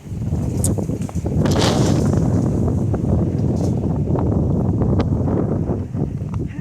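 Strong wind buffets the microphone in a loud, continuous low rumble, with gusts swelling and a few thumps along the way.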